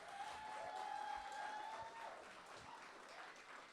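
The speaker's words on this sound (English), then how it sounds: "big round of applause for them" An audience applauds at a community gathering, a soft, steady wash of clapping heard from some distance, fairly faint, with a thin sustained tone running beneath it.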